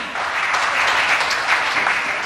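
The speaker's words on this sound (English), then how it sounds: "Let's have a nice round of applause" Dense, steady audience applause at a live Oktoberfest concert in Rhode Island in 2013, greeting a band member's introduction. The clapping is loud and continuous for the full stretch.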